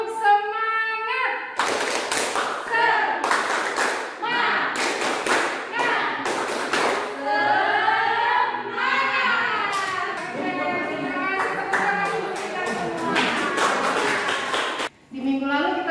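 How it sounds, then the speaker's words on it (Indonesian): A class performs a rhythmic tepuk semangat clapping routine, with loud, close bursts of patterned claps and slaps mixed with voices chanting or singing along. "Ikuti gerakan kami dengan tepuk semangat."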